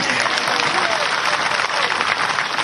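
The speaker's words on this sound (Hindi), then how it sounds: "आज सबसे पहले नथू कौल जी का तालियां बजा के आप स्वागत कीजिए" An audience at a tribal pride honour ceremony in Dagdaua, Umaria, claps to welcome a guest: loud, dense, continuous applause from a large crowd throughout, with no speech over it.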